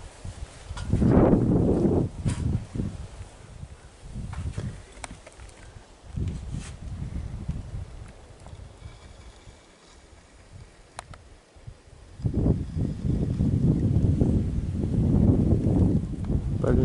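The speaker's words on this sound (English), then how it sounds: "Hot and windy." Hot, gusty wind blowing across open rural valley land in wildfire season, with strong low buffeting surges near the microphone that ease off in the middle and return steady and loud toward the end; no talking.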